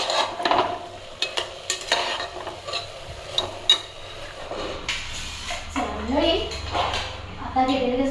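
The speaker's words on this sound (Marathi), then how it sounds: "आता गुळामध्ये शिजवायला घेतली तिला." Chana dal simmering in jaggery is stirred in a pot, giving repeated scraping and knocking strokes at close range while background voices murmur throughout.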